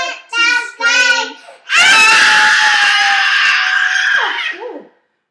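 Children sing a nursery rhyme, then break into a long, loud, high-pitched scream together, held for a couple of seconds before it trails off.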